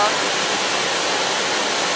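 Laliako waterfall in Sinjai, clear water crashing over large boulders in green natural surroundings, a loud, dense, unbroken hiss of falling water with no pauses.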